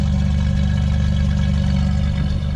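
A 1978 Buick Skylark project car idles with a brand new exhaust, a loud, steady, low rumble that stays even and close throughout.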